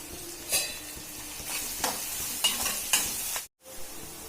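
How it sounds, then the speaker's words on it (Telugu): Sliced onions fry with salt and turmeric in a pan, a steady close sizzle broken by several scraping stirs, with a brief near-silent pause before the frying resumes. "ఆనియన్ బాగా ఫ్రై అయిపోయిందండి"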